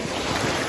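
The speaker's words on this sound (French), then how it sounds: "les vagues, elles s'écrasent" Ocean surf breaking on a beach at Nusa Penida, a steady broadband wash of waves with wind rumble against the microphone, continuous and fairly loud for under a second with a slight swell at the end.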